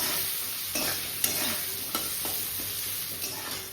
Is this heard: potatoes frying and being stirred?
yes